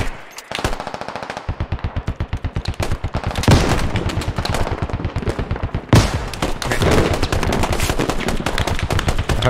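Heavy automatic gunfire in the military video game Squad, long rapid bursts of machine-gun fire with evenly spaced shots and sharp louder cracks, loud and close with almost no talking.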